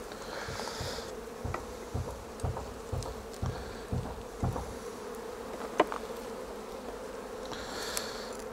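Honey bees buzz at an open hive during a brood box inspection as frames are lifted, with a steady droning hum and a few soft knocks and bumps, close and fairly quiet.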